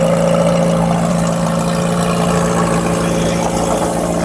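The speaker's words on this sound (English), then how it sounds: "that motorcycle's loud" A loud motorcycle engine running steadily close by, a constant throaty drone with a pulsing mechanical hum and no talking.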